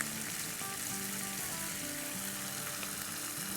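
Masala frying dry in a pan with no water for a stuffed egg curry, a steady close sizzle and crackle running unbroken throughout.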